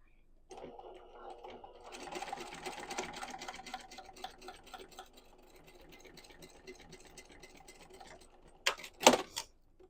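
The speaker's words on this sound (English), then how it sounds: "I'm just going to sew this down, back stitching a couple of times" A home sewing machine stitches down the folded fabric edge of a sling bag, a steady close mechanical whir that picks up speed, settles, then stops, followed by a few sharp handling clicks.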